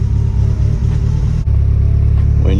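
Eagle Talon TSI all-wheel drive car idling with a steady low engine rumble from inside the cabin, continuous and fairly loud, with a brief dip near the middle and a slight rise toward the end.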